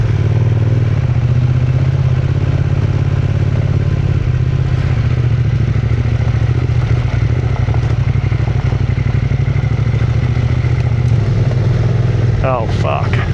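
A road motorbike engine labouring up a rough trail, loud and close throughout with a constant low drone and clattering, while the rider talks over it.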